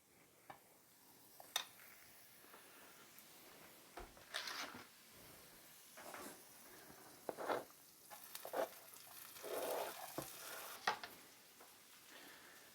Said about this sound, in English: I'm going to put just a touch of oil in the pan.